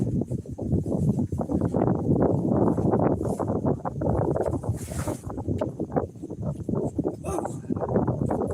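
Steady wind buffets an outdoor microphone during a chilly live stream, a loud continuous low rumble with gusting surges and no pauses throughout.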